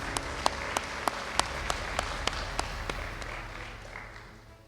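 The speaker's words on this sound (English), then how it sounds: "Let's give our recipients another round of applause" At a scholarship recognition day, an audience gives another round of applause for the recipients, a dense clapping wash with a few sharp individual claps standing out, gradually tapering off.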